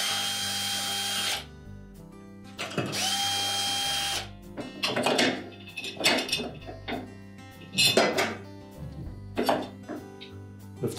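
A cordless power drill backs screws out of a Whirlpool washer during a bearing repair. Several short whirring bursts are separated by pauses, and clunks and handling noises follow the screw removal.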